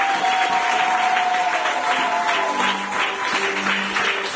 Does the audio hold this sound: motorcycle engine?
no